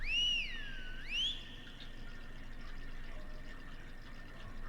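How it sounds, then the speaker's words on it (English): Two rising whistle calls are given in the horror video game Lost in Vivo, followed by a faint distant response over a low steady ambient rumble. "You whistle, the dog responds."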